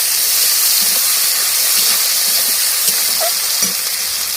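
Ginger paste sizzles in hot oil for an aloo dum with drumstick flowers, a steady loud hiss with faint crackles throughout and no talking.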